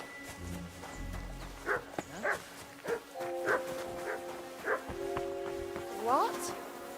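A dog barks in the medieval video game Kingdom Come: Deliverance 2, with several short separate barks and yips spread over the clip against a soft ambient background, and a few higher whining calls near the end.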